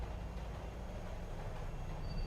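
A small amusement-park train shaped like a monkey, staged as a radio horror drama sound effect, rumbles steadily with dense rolling wheel noise and a faint squeal, continuous and moderately quiet with no voices.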